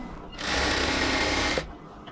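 Sewing machine stitching the border of a cotton dress, a loud, steady mechanical whir running for about a second and a quarter before stopping, close by.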